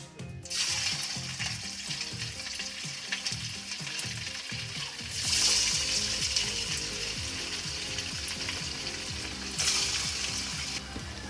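Chicken pieces for chilli chicken deep-fry in hot oil, a dense, steady bubbling sizzle with rhythmic mechanical clicking early on and a louder surge midway as more pieces go in, all close and without talk.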